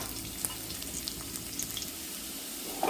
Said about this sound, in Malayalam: ചുവന്നുള്ളി മുറിച്ചതും വെളുത്തുള്ളി ചതച്ചതും ചേർത്ത് വെക്കുന്നുണ്ട്.